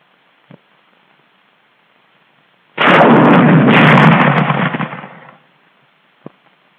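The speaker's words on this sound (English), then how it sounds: "Let's look at this new weapon, generally called the bazooka, which plays the song of death to the enemy." A 1943 US Army bazooka rocket launcher fires once, a loud sudden roaring blast that rushes on for about two seconds before fading, with faint clicks before and after in an otherwise quiet scene.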